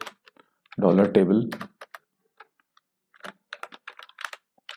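Rapid keyboard typing while entering code in a Hindi CodeIgniter 4 programming session, clicking in uneven bursts of keystrokes after a short stretch of speech.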